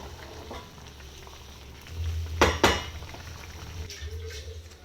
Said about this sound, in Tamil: இது நல்லா இப்போ கொதி வந்து வரட்டும்